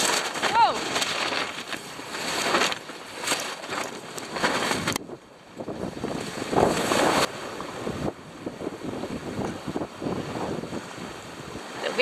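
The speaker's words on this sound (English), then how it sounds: "The wind just got caught in the spinnaker the wrong way." Strong wind buffets a sailboat as it catches the spinnaker the wrong way at sea off Gove, with loud, gusty roaring and flapping over water noise, and voices briefly heard in the mix.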